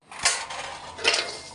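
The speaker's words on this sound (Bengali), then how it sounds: "এখন তেলে কুমড়ো বড়িগুলি দিয়ে" Lentil pumpkin bori dumplings drop into hot oil in a pan, giving a bright sizzle that swells near the start and again about a second later, with pan and utensil clatter close by.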